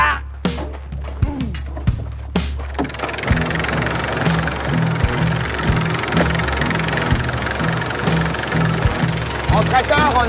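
A tractor engine chugs steadily during a ride, with a low rumbling throb and knocking vibration, while people talk loudly over it.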